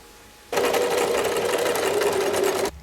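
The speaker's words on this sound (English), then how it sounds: "So I think I'm going to try sewing them together." A sewing machine stitching leaves together runs in one steady, loud continuous burst of about two seconds, starting and stopping abruptly, with no talk.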